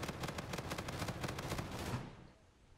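VPR gun firing in Infinite Warfare, a rapid steady stream of sharp automatic shots at close range that stops abruptly near the end, leaving a short fading tail.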